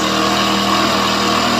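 Hero Passion Pro motorcycle engine, slightly heated during carburetor tuning, revving at a steady raised speed, a loud close continuous drone held throughout the short stretch.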